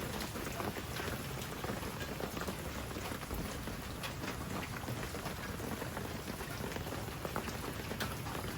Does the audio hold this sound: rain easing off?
yes